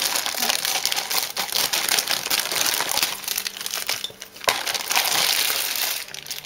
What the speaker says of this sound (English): I have to cut it open.